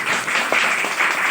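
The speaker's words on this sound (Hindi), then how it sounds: "तो एक बार अपने लिए जोरदार तालियां बजाओ।" Indoor audience applause at a menstrual hygiene awareness event in Guwahati, a brief burst of steady clapping from a crowd throughout.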